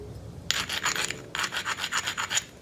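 Flint edge being bevelled while knapping, sounding as two bursts of rapid, close, rasping scrapes in a steady back-and-forth rhythm with a brief pause between them.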